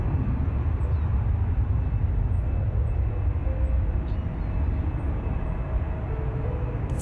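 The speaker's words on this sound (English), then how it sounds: "So here's one of my other favorite clips from plane spotting." An airplane heard while plane spotting, giving a steady, loud, broadband engine roar and rumble that holds throughout with no speech.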